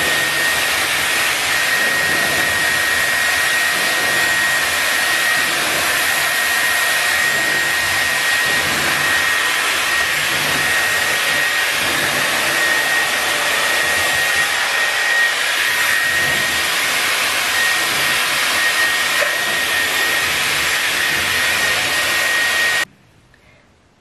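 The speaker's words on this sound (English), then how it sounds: "on high air and the low heat, I'm going to go in and just dry my roots." A Dyson Airwrap hair dryer runs on high air and low heat while drying the roots of curly hair, a loud, steady, close whoosh that holds for over twenty seconds before cutting off.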